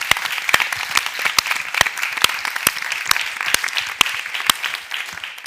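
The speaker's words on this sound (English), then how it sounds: "Please give them a round of applause to say thank you very much." An audience at an evening event on river health with a dragons panel applauds steadily throughout, a dense crowd of claps with sharp individual hand strikes standing out near the front.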